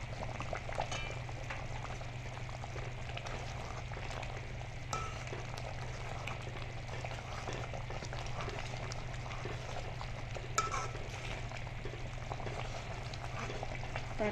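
Potatoes frying in oil in a pan for a paneer and cornflakes dish, a steady, even sizzle that continues throughout with faint clinks now and then.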